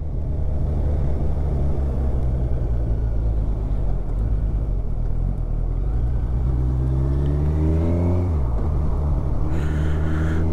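A 2020–2021 Kawasaki Ninja 1000SX motorcycle engine idles loudly and steadily close by, then is gently revved with rising and falling pitch toward the end, with no talking.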